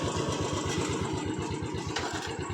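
A Royal Enfield Bullet motorcycle engine idles with a steady, loud, rhythmic thumping beat close by, the even single-cylinder pulses running throughout with no talking.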